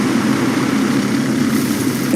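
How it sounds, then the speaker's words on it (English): A World of Tanks tank engine, recorded from a real combat vehicle at the Tank Museum in Bovington, runs as a steady, loud low idling rumble heard alone. "We've diversified our audio using real tank sounds. With new engine and track effects,"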